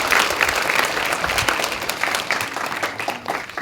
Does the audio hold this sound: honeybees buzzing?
no